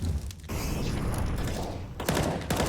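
Gunfire in a professional CS:GO match on the Ancient map: a steady, dense burst of shots fills the clip, with a brief gap near the start and sharper cracks toward the end, fairly loud and without talk.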